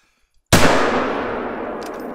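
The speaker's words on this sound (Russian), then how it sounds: "вот это выстрел был на опережение" A single sharp rifle gunshot cracks out in the hunting video game theHunter: Call of the Wild, breaking near-silence and trailing off in a long, fading echo.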